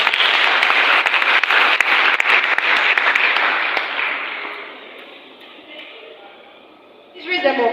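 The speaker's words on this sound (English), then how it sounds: "Round of applause for them." A live audience at a youth development workshop breaks into steady, dense applause that fades over several seconds, then a voice speaks over the hall near the end.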